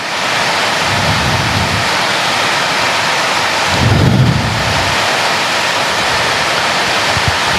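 Heavy rain pours steadily during a church service, a dense, unbroken hiss with a brief swell in low rumble midway and no voices.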